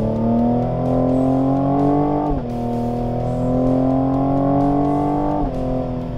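A 2021 Cadillac CT5-V in its most aggressive V mode gives a loud, steady engine drone heard from inside the cabin, with rising revs that drop sharply at a gear change and then climb again.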